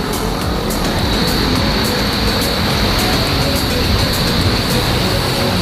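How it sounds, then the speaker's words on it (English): Steady roar of night road traffic on EDSA in Manila beside the MRT, a continuous dense wash of engines and tires with a faint high whine, no voices. "Traffic is slowing."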